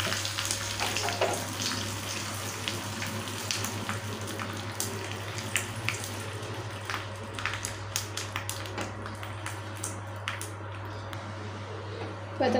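Asafoetida, red chillies and curry leaves sizzle in hot oil for a chow chow kootu, a steady crackling sizzle with scattered sharp pops over a low hum.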